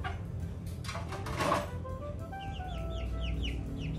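Chickens and 45-day-old chicks clucking and cheeping close by on a small farm, with rapid repeated chirps and a louder cluck burst among them.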